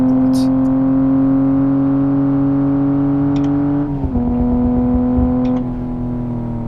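A BMW F80 M3 engine in the driving game Assetto Corsa drones at a steady, strongly tonal pitch while cruising. Just before four seconds it dips briefly as if shifting gear, then settles back to an even hum.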